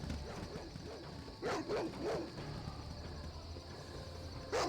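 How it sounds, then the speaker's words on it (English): Wild dogs barking in the video game Baldur's Gate, a few short, faint yips and barks in quick succession and then a single later one, set over a quiet ambient bed with crickets. "Wild dogs"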